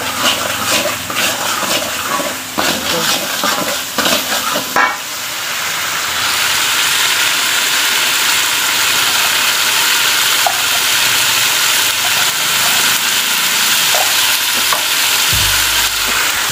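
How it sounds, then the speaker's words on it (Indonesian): Spices sauté in a hot pan until fragrant, giving off a loud, steady sizzle and hiss, with clattering stirring at first that settles into continuous frying. "Ditumis sampai wangi"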